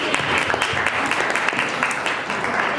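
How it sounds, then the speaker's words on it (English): Audience applause at a hardware happy hour event, steady, fairly loud clapping with distinct individual claps throughout the short stretch. "a round of applause for the Liao and Ivy Wu"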